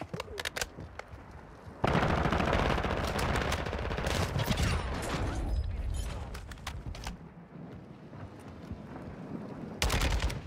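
MP5 submachine gun fire in a first-person shooter video game, with loud sustained automatic bursts and rapid clattering shots filling most of the stretch and a short burst near the end.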